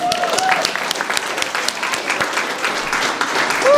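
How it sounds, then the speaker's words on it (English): An audience at a residential renovations celebration gives a round of applause, brisk continuous clapping from a crowd nearby with a brief voice or whoop near the end. "Let's do another round of applause."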